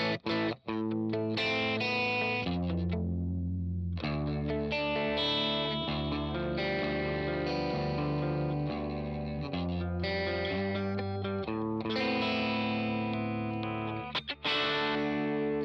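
Driven electric guitar played on the bridge pickup through an FAS AX8 amp modeller with effects, a continuous distorted riff of sustained chords and notes ringing close and loud, with no talking.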